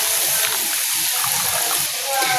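Milk from two bags pours into a hot pan of browned chicken and vegetables, a steady gushing, splashing stream heard close and continuous for a couple of seconds.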